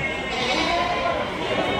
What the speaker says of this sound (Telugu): ఈ పక్కంతా గొర్రెలు ఉన్నాయి